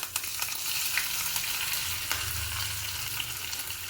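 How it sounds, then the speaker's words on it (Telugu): Chana dal, urad dal, cumin, mustard seeds and curry leaves temper in a spoon of hot oil, giving a steady, dense close sizzle with small crackles and occasional stirring clicks, no voices. "ఒక స్పూన్ ఆయిల్ వేసాను ఒక స్పూన్ శనగపప్పు ఒక స్పూన్ మినపప్పు జీలకర్ర ఆవాలు కరివేపాకు"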